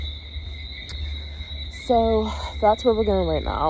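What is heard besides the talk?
crickets chirping near a beach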